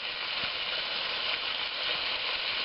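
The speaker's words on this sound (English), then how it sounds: "Brown that up maybe about 10 minutes in the pan" A pound of meat browns in a hot pan for beef stew, giving a steady, close sizzle that holds at an even level throughout, with no talking.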